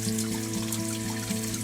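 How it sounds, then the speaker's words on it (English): Water trickles steadily through a hole inside the small well house at the St Mullins holy well, a close, continuous dribble with a faint hum beneath it. "water coming through a hole, dripping down"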